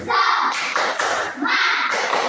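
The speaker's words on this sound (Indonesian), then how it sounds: "untuk semangat kita lakukan tepuk semangat" A school class performs a rhythmic 'tepuk semangat' spirit clap, several bursts of group clapping and patting in quick patterned groups, close and fairly loud, with children's voices mixed in.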